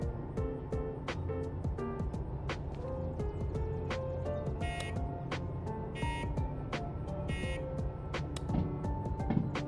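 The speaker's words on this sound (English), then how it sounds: "that's the bell, but it's more of a buzzer than a bell" A locomotive bell in the Derail Valley train game rings as a buzzy, rapid electronic tone, repeating steadily against background clatter and clicks.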